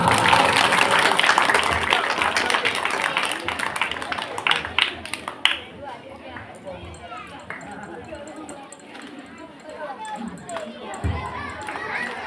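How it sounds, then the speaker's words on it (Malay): Audience at a village religious quiz contest applauding team A, a loud burst of clapping and crowd noise that fades after a few seconds into quieter room murmur and scattered sounds. "Berikan tepuk tangan yang meriah untuk regu A."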